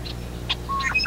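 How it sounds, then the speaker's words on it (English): Brief red-winged blackbird song: a few short, bright chirps and thin whistled notes, clear and fairly close over quiet background. "The basic message of the red-winged blackbird song is simply,"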